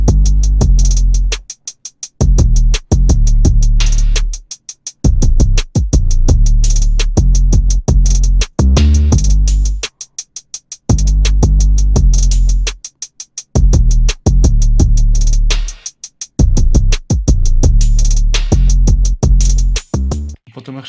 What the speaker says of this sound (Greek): Και στη συνέχεια πρόσθεσα και ένα 808 μπάσο,